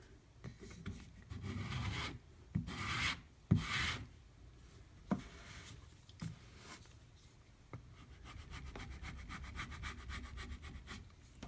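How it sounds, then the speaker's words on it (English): Diamond paste compound being scraped across an oiled leather strop, a close, dry rubbing rasp in irregular strokes with a few sharper scrapes, steady and uninterrupted, with no talking. "Now I'm going to kind of scrape it again."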